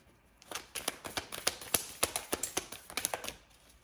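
Rapid crisp clicks and flicks in an irregular burst of tarot cards being shuffled close by, with no voices.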